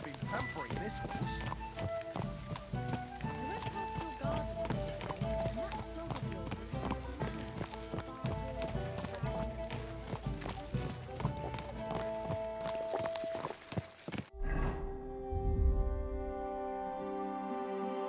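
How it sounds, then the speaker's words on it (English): Horse hooves clip-clop in Kingdom Come: Deliverance II, a steady walking rhythm under dense orchestral game music with a voice speaking, then the music cuts out near the end and a few closer hoof sounds continue. "Someone's been pampering this horse."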